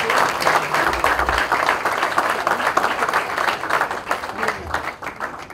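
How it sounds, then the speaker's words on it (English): Audience applause at the inauguration of the Spice Institute, a dense, sustained round of clapping from a crowd, close and lively, with a voice briefly audible underneath. "ladies and gentlemen, big round of applause."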